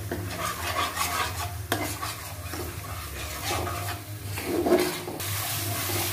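Ginger, garlic and onion paste sautéing over raised heat, a constant sizzle punctuated by repeated scraping and stirring against the pan, fairly close and without any voices.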